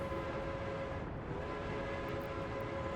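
A new locomotive with an 85 top speed in the city-building game Workers and Resources, giving a steady, continuous rumble of a running train with a sustained tonal whistle-like hum throughout, no talking.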